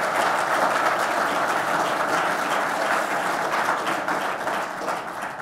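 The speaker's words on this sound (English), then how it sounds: "Let me give you a round of applause before I move on." Conference audience at an international pharmaceutical industry assembly in Geneva gives a steady, full round of applause, many hands clapping in a continuous wash that fades gently near the end.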